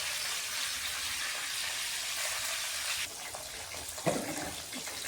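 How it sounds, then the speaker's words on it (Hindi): Onions fry in a pan on a clay stove, giving a steady, close hiss of sizzling oil that softens midway, with a few stirring scrapes near the end. "प्याज 2 से 3 मिनट के लिए अभी इनको भी भूनना है"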